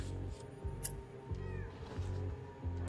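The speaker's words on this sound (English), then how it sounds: "I just heard a cat." A cat meows inside the horror video game The Coma 2: Vicious Sisters, a few drawn-out, faint cries over a low rhythmic ambient hum and scattered game noises, with no talk.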